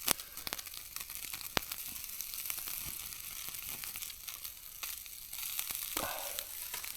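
Sausages cook on a small BBQ grill during a wild camp high on a mountain, giving a soft, continuous sizzle with scattered crackles and pops, fairly quiet and close, with no voices.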